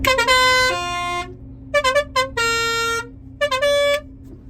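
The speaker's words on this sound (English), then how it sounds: "put air horns on the combine" Loud blasts of a multi-tone air horn on a combine harvester, several short toots and longer held notes, over a steady engine drone.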